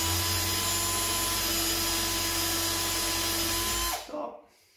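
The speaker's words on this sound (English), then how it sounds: "I'm just pushing the drill up into the corner" A power drill whines loudly and steadily for about four seconds while drilling up into the corner of a chicken feeder, then winds down and stops, leaving a brief rattle and near silence.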